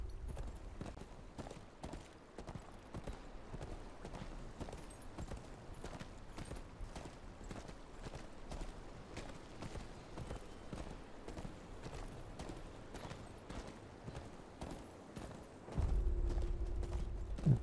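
Horse hooves clip-clop in a steady, even walking rhythm across the Game of Thrones: Kingsroad video game, continuing for the whole stretch, with a low creak and mechanical rumble joining near the end.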